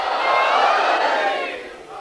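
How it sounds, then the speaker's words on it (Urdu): A large crowd at a Muslim religious gathering shouts slogans together, a loud, sustained roar of massed voices that swells and then fades over two seconds. "یہ سب نعرے ہیں آپ کی طرف سے، آپ کے جذبہ ایمانی کے."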